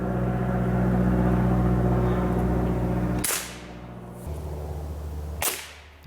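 Crosman C362 multi-pump air rifle firing pellets outdoors: a sharp crack near the middle, then a second fainter crack toward the end, over a steady low background hum.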